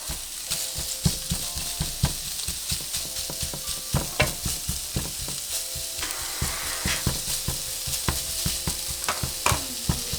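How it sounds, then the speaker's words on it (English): Chorizo sausage sizzles steadily in a hot pan while a spatula repeatedly scrapes and taps to break it up, the frying close and continuous with no talk. "we're just going to cook it for a few minutes or until we have all of our chorizo broken down"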